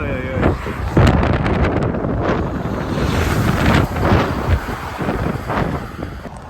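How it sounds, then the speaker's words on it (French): Strong headwind buffets a cyclist's microphone on a bicycle crossing of Canada, a loud continuous low rumble with gusty surges and sharp thumps throughout, heard alone without talk. "Je ne m'attendais pas à avoir une autre journée de vent de face comme j'ai eu hier."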